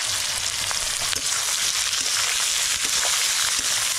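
Onions frying in a pan until brown for chicken mughlai, a steady close sizzle with faint stirring scrapes throughout.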